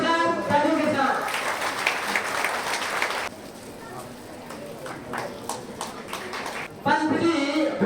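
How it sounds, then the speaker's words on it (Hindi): An audience gives loud applause at an event honoring a film producer, dense clapping that swells, drops to a softer patter midway, then surges again near the end, with a voice speaking over it. "सम्मान किया जा रहा है जोरदार तालियों के साथ"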